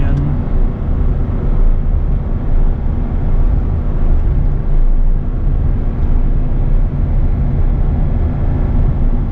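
A 24-year-old 8.1-litre gas V8 truck towing 18,000 pounds on a mountain highway under light throttle, with a steady loud drone of engine and road noise running unbroken throughout.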